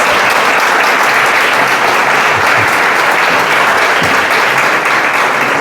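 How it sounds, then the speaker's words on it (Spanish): Sustained applause from a church congregation, dense and loud throughout with no break, filling the whole stretch. "Un aplauso al Rey de Reyes."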